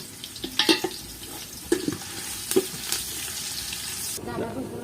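Onion and curry leaves fry in oil in a pot for a large chicken curry cooked outdoors, a soft sizzle under several utensil clinks and scrapes.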